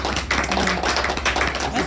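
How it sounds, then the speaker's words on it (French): A small group of people clap for themselves in a room, a brief burst of soft, dense, overlapping handclaps without talk. "Moi, je veux qu'on s'applaudisse."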